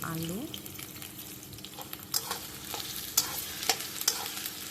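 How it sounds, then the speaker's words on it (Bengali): Potatoes fry in a pan for mango chicken, a steady sizzle running throughout while a spoon stirs and scrapes, with several sharper clinks near the end. "আলুগুলো ভালো করে ভাজতে হবে।"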